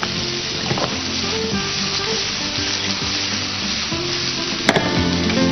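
Bell peppers fry briefly in a hot pan, giving a loud, continuous close sizzle with stirring scrapes and a sharp clank near the end.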